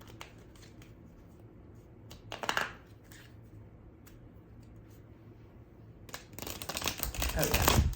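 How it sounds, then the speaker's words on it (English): An oracle card deck is riffle shuffled. A short crisp burst of flicking cards is followed by a longer, louder, rapid fluttering cascade as the halves interleave, close to the listener. "if you wanted to riffle shuffle,"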